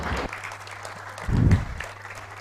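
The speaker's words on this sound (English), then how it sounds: "Let's give them a big round of applause" An audience at a tenth-anniversary celebration in a Lilongwe conference hall claps briefly, a light patter of applause with a steady low hum beneath it and a fuller swell of clapping near the end.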